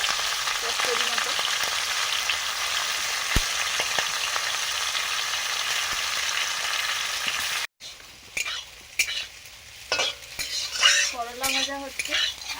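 Chital fish bones and head fry in a pan with a steady, bright sizzle, then utensils scrape and stir with clinks and clatter as the sizzling continues more unevenly.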